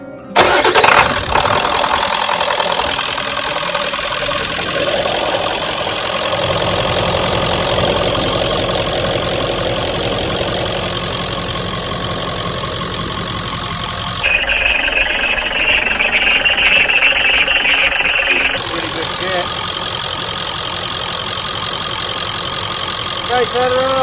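A 1996 Ford F350 dually with a turbo 7.3 Powerstroke diesel cranks, fires and settles into a loud, clattering idle that runs throughout, close by, with people talking over it.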